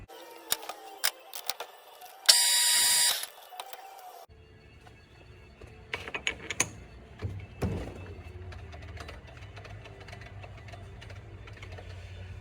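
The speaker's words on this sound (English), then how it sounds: "then we're going to do a little boring operation" A lathe bores out a piston with a boring bar, giving scattered ticks, a brief tonal whir and then a low steady machine hum with clicks and clatter. No one talks.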